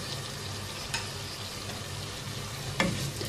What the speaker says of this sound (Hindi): इनको अब 2-3 मिनट अच्छी तरह से भून लेंगे